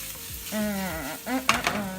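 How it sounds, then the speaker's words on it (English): Shrimp and sausage sizzle in a frying pan as the pan is given a shake, making a brief close hiss with a few squeaky, whining tones and clatter. "I'm gonna go ahead and toss in my shrimp and sausage. Give that a little shake around."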